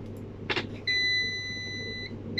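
A multimeter's continuity beep while probing a MOSFET on a shorted HP Spectre x360 14 laptop motherboard power rail, a steady high-pitched electronic tone sounding for over a second after a faint click, close and clear.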